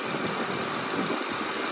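A 2006 Acura TL's 3.2 liter VTEC V6 idles with a smooth, even hum and light vibration, heard close and steady without any talking.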